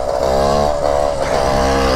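A motorcycle engine revs hard and continuously, a loud, close, steady buzzing roar that rises and dips slightly in pitch, with no voices over it.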